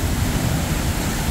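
Atecacalax waterfall near Ayotoxco, Puebla, makes a steady, dense rush of falling water, broad and unbroken, with no voices.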